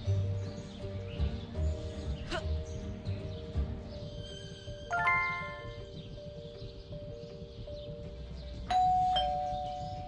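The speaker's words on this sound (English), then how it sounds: "There goes that stupid bell again." A doorbell in the Scary Teacher 3D mobile game rings several times with clear chiming tones over a busy game backdrop of clattering and hooves, the chimes bright and distinct and no one speaking.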